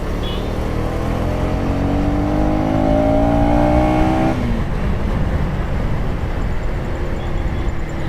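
A KTM Duke 250 motorcycle engine revs upward steadily under acceleration during a road ride, its rising whine loud and close over wind rush, then cutting off abruptly into a gear change as the ride continues.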